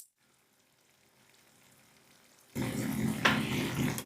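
Vegetables sautéing in a little broth in a pan for a Japanese stir-fry, near silence, then a loud close sizzle bursts in and holds to the end.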